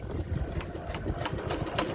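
A boat engine on a river in the Sundarbans runs with a steady, mid-pitched chugging hum that swells slightly as it is throttled up, close and continuous throughout.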